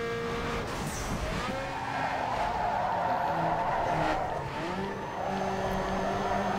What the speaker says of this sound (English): I literally went sideways to brake